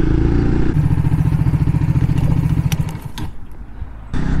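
A Lexmoto RSS Street 125cc motorcycle's single-cylinder engine, loud and close, a pulsing buzz that steadies and then drops away as the throttle closes before picking up again.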